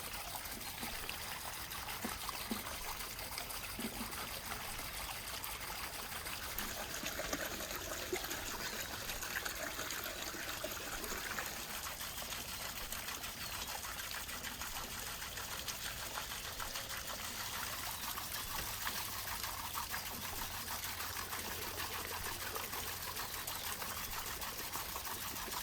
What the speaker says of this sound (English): toss the buckwheat into a large bowl and rinse it thoroughly under water from the well